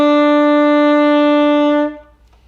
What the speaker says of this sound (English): Now the first note I want to teach you is a B.